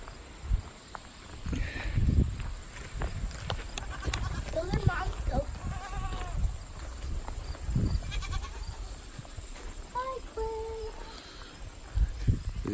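Goats bleating a few times on a small farm, moderately near, heard under people talking as they walk around outdoors with footsteps.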